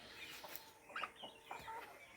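Tiger chickens on a farm clucking in a few short, faint bursts, with quiet gaps between calls and no talking.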